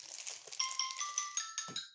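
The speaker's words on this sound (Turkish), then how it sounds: "Bu arada telefonum çalıyor." A mobile phone ringing, a faint repeating electronic melody of bright tones stepping in a steady pattern, with a soft thump near the end.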